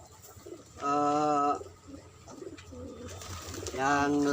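Pigeons coo in a domestic breeding loft, with two clear, close bursts of throaty cooing separated by quieter bird sounds and faint background noise.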